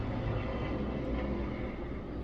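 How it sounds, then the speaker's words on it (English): A helicopter flies overhead as a steady, loud, broad rumble that holds constant throughout, with no talking. "there's a super loud helicopter flying over"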